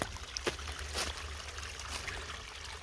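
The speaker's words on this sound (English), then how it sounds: "the water is really flowing so nicely" A natural spring waterfall flows steadily in a soft, continuous rush, with a few light splashes and trickles standing out.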